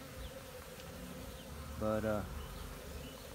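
Honey bees buzzing steadily around the hive entrance, a continuous droning hum with a brief, louder close pass in the middle; one short spoken word is heard.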